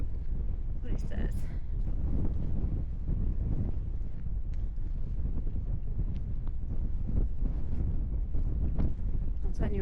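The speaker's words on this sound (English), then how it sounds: "The camera's going to pick it up massively, but there's a lot of wind here." Strong wind buffets a camera microphone on an exposed, shelterless landscape during a solo hike, a loud continuous rumbling roar with gusty surges, close and unbroken throughout.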